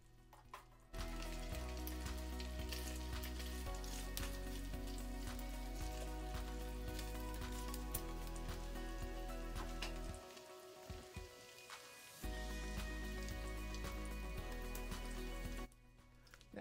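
Smoky kielbasa sausage sears in melted butter in a pan, giving a steady close sizzle and crackle with no talking, dropping briefly near the end before resuming.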